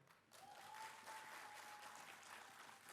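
An audience applauds at an Indonesian tourism village awards launch night, a short, faint burst of clapping with a thin tone running beneath it.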